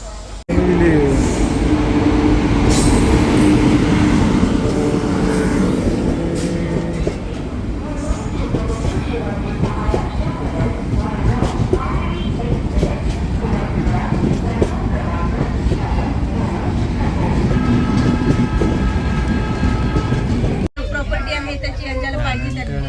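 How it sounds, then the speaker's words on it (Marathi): A train rolls into a railway station, its steady loud rumble and wagon clatter filling the scene, with people talking over it. "आता काही वेळातच आमची ट्रेन येईल"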